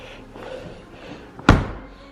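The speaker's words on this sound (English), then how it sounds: "I'm gonna close the door." A single solid slam as the door of a Hyundai Accent shuts, close and loud after a moment of quiet background, with a short thud trailing off.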